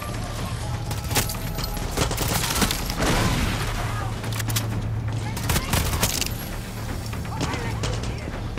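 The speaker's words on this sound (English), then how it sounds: "Hey, stop shooting my crop." Rapid gunfire in Far Cry 6, bursts of shots crackling through a busy game scene over a steady low hum. The firing stays fairly distant and fills the whole stretch, with a denser burst in the middle.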